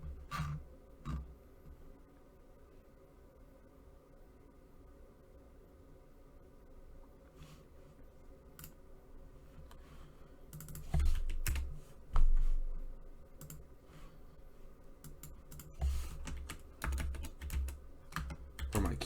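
Computer keyboard typing, scattered bursts of clicky keystrokes over a quiet background, sparse at first then quicker clusters of taps and a few louder key strikes later on, fairly close and without talk.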